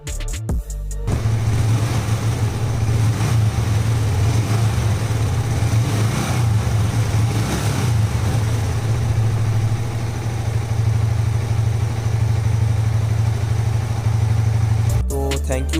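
A Yamaha MT-15 motorcycle engine idles steadily and close by, a continuous low throbbing hum that runs almost the whole time with no talking, after its engine noise fault was fixed through engine oil circulation.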